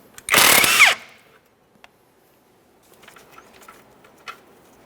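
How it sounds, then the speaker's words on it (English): An 18mm socket wrench working on a control arm mounting bolt of a Jeep Patriot, one short loud burst of ratcheting or driving near the start, then faint scattered tool clicks. "Let's hold that mounting bolt with an 18 wrench and use our 18mm socket on the back side."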